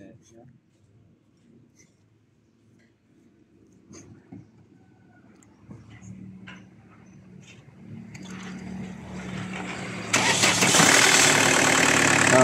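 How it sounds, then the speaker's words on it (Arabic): A cold Opel Astra 2.0 litre engine cranks and fires near the end, building into a loud, steady broadband roar after a quieter stretch of low mechanical rumble beneath someone talking. "هذيك ها تو باش نسمعوكم الموتور خدم"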